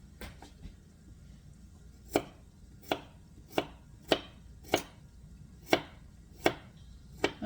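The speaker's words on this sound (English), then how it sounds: "turn it on the side where you have a big knife and you hit it here" Garlic cloves smashed with the flat side of a big kitchen knife, a series of about nine sharp, close thumps on a cutting board at roughly even intervals, with no talking.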